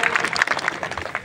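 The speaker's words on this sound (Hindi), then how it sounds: "जोरदार तालियों की गड़गड़ाहट से उनका स्वागत किया जाए।" A crowd at a political rally claps loudly in a dense, continuous burst of applause, with a voice briefly audible under it.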